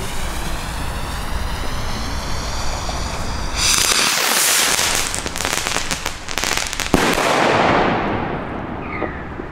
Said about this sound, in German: Und jetzt zum Schluss noch die größte Funke-Salut-Rakete.